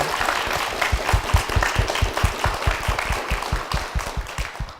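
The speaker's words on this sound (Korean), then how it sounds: "다시 한번 큰 박수 부탁드리겠습니다" A Korean church congregation applauds its senior pastor with loud, dense clapping from many people, sustained and fairly rhythmic in places, with no talk over it.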